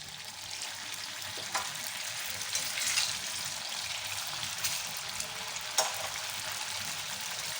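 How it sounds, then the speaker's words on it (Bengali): Jackfruit koftas dropped into hot oil, a broad continuous bubbling sizzle with a few louder splutters as pieces go in. "তেলটা আমার গরম হয়ে গেছে। এবার একে একে কোপ্তাগুলো ছেড়ে দেব।"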